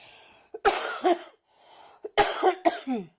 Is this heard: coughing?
yes